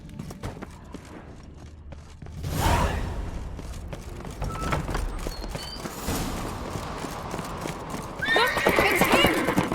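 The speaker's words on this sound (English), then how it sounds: "Grab a horse, we'll chase him down." A horse in The Witcher 3 video game gallops with loud, close clip-clopping hooves, snorting and whinnying, with rustling movement and bursts of other sound layered over the running.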